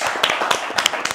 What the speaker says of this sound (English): let's give Hal a round of applause